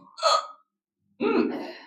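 A person doing a throat-tightening breathing exercise makes two close, hiccup-like throat breaths, a short sharp catch and then a longer rasping intake after a brief silence.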